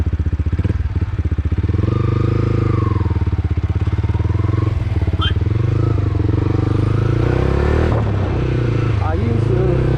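Motorcycle ridden on the road in Manipur, a loud close engine drone with steady throttle changes and wind noise, continuous throughout, with a voice talking over it at times.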